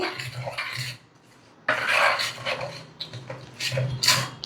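Mango pickle ingredients are stirred together in a bowl, giving bursts of clinking and scraping separated by a short pause, fairly close and moderate in level, with no talking.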